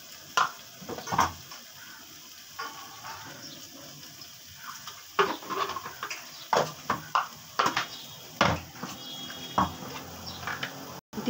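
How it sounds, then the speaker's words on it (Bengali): A little water goes into a cauliflower rezala in the pan, heard as scattered splashes and clinks of utensils, with a brief pour and soft stirring. "দিয়ে দিচ্ছি সামান্য একটু জল, একটু গ্রেভি হবে।"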